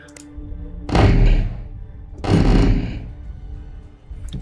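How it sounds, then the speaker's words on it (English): Two heavy booming blasts of an energy weapon fired by the Gravelex in the space strategy game Distant Worlds 2, each a loud thudding burst that rings out and fades, with a faint onset of a third at the end. "I guess that was the energy weapon that the Gravelex was firing"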